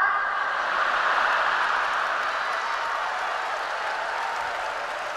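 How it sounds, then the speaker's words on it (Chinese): A theatre audience at a Deyunshe crosstalk comedy show breaks into sustained applause, a thick, steady roar of many hands that holds level and then tapers slightly, with no talk over it. "我瞧他们这鼓掌应该是对的"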